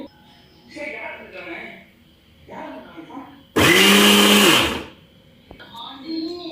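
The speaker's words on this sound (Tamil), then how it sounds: "இப்போ நம்ம இந்த எள்ளு ஃபுல்லாக போட்டு திரிச்சிட்டு வந்துடலாம்." A mixer grinder grinds sesame seeds in one loud, close burst of about a second in pulse mode, and a person talks before and after it.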